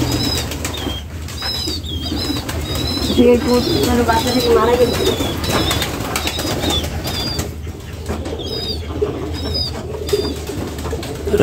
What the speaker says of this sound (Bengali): এই যে এখানে এক জোড়া মুখী কবুতর অনেকগুলো আছে আমাদের